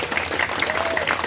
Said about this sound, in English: We can get a clap for Dee.